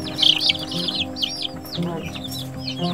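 Young meat-and-egg chicks, Spanish and naked-neck breeds, chirp and peep in quick high bursts close by, mostly at the start and then in scattered calls, while a voice talks low in the background.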